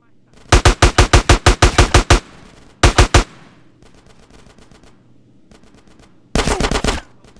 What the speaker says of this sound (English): Get some suppressing fire in there!